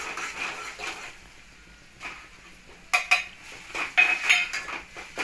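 A metal spoon stirs masala and peanut powder into a curry in a pan, with soft scraping followed by sharper clinks and knocks against the pan's sides, close and intermittent.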